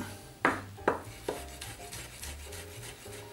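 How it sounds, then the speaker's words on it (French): A knife finely chopping onion on a board, three sharp, distinct chops followed by lighter, softer cutting taps, fairly quiet and close. "on va commencer par émincer finement notre verre d'oignon"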